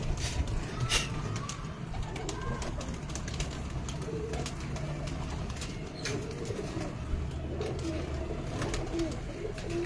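White golden pigeons coo softly on a Multan rooftop, with occasional wing flaps and chirps amid a steady outdoor background hum.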